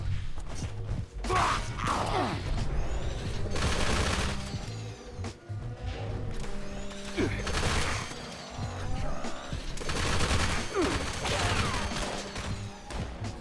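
Dense, continuous gunfire from a heavy automatic weapon in the Fallout 76 video game, with rapid bursts, impacts and mechanical clatter layered throughout at high volume.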